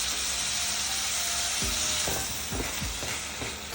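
Curry leaves crackle in hot oil as beetroot pachadi is stirred in an open pan, a dense close hiss with scraping spoon strokes toward the end.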